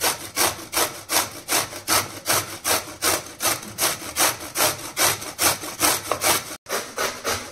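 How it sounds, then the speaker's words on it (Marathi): Radish is finely grated by hand, giving a loud, steady rasping stroke repeated about twice a second in an even back-and-forth rhythm, close up and alone. "त्यानंतर मुळा पण चांगला किसून घ्यायचा आहे।"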